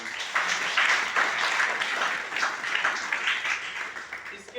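Enthusiastic applause fills a Modicare business event in Rewari, a crowd clapping in a dense, rippling wash that rises and falls in waves for several seconds, moderately loud and unbroken.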